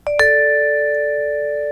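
A bright vibraphone chord rings out after a quick double strike, then sustains and slowly fades, clear and close.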